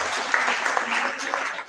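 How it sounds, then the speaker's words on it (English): A lecture audience applauds to welcome a speaker at a memorial lecture, a short burst of dense clapping filling the room at moderate level. "let us warmly welcome the distinguished Dr. Prahlad for today's memorial lecture with a great applause."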